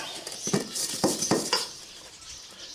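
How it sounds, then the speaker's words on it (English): Dry ingredients for bannock bread, flour and sugar among them, mixed in a bowl with a utensil, giving a series of scraping clinks at an uneven pace, close up and clear, without talk. "We'll take this stuff, mix it up, try and get it somewhat incorporated"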